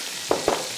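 Chopped onion and garlic hit melted butter in a pan, giving two quick, close sizzling bursts over a quiet background.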